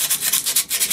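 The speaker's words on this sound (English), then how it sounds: "Now, I'm sanding any exposed areas," Sandpaper rubbed over the exposed metal edges of a vintage hand plane during restoration, making quick repeated back-and-forth hissing strokes, close and steady, with no talking.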